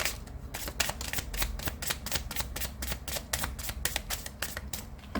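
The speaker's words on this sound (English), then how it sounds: "Last shuffle." Tarot cards being shuffled in a steady run of quick papery riffles and slaps, close and fairly loud, with no talking over them.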